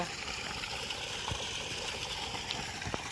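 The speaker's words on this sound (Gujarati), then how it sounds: "આ બંબો પડે છે. પાણી ચાલુ જ છે." Rainwater pours steadily from an outlet into a waterlogged farm field in Banaskantha after heavy rain, making a soft, continuous trickling and gurgling rush at a moderate distance, with no voices.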